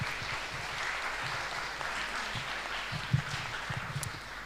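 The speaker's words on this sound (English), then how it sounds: "Big applause" Applause from a live audience at a startup pitch event, a continuous moderate patter of clapping with occasional louder individual claps, heard at some distance.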